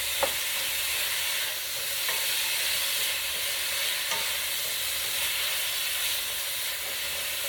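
Sirloin steak chunks searing in a pan over high heat, a dense, steady hiss of sizzling fat that holds evenly throughout with only faint clicks; no voices.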